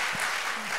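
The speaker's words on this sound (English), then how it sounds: "Yeah, come on, we can clap that up." Brief burst of church congregation applause at a Mother's Day service, a dense wash of many hands clapping together for under a second, steady and moderately loud.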